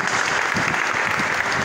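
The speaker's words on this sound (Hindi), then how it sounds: "तालियों से सर का इस्तकबाल करें." An audience claps steadily to welcome a guest, a private ITI principal, onto the stage, a close, dense burst of hand claps with no voices over it.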